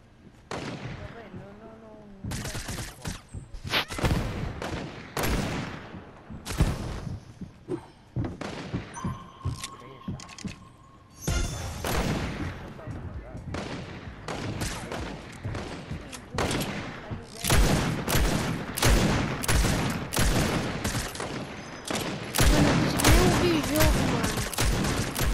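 Rapid gunfire and explosive bursts from a Fortnite match, dense volleys and repeated shots throughout, loud, with a voice talking over parts of the action.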